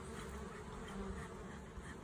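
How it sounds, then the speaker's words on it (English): Bees buzzing as they leave a hive box during a summer swarm, a steady dense hum of many insects close by, continuous with no talking. "Those are the bees that is leaving this box."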